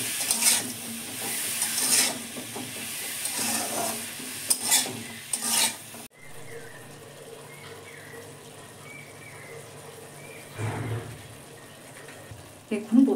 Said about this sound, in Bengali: এবার লাউগুলো দিয়ে দিচ্ছি, একটু ভেজে নেব।